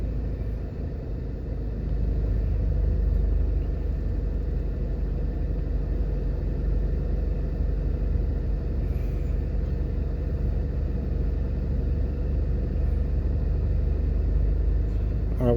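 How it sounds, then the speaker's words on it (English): Engine rumble and low road noise from heavy traffic in New Kingston, Jamaica, heard from inside a car, a steady dense drone that swells slightly after the first seconds and holds evenly with no talking. "The traffic is too heavy"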